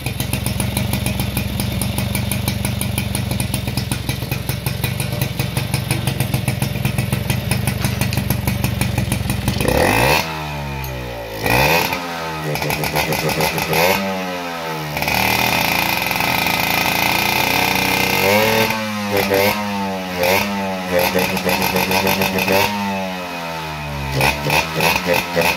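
Peugeot moped fitted with a Malossi cylinder and T3 exhaust, idling with a high buzzing drone, then revved hard in several sharp rising bursts that drop back between throttle blips, close and loud.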